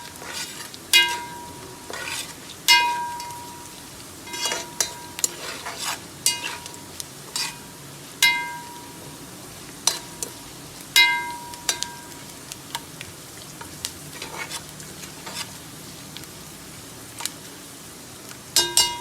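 Whole spices such as cinnamon sticks fry in oil in a pot as a ladle stirs them, giving a soft sizzle under repeated sharp metallic clinks and scrapes that come in irregular bursts.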